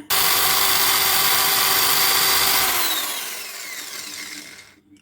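A power tool drills out and widens mounting holes in an amplifier front panel, a loud continuous grinding whir that runs steadily, then winds down and fades near the end, with no talking.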